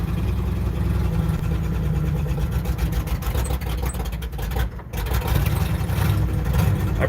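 A Farmall H tractor with a freshly rebuilt engine and no exhaust system runs steadily nearby, a loud, raw, continuous chugging drone with a brief dip near the end.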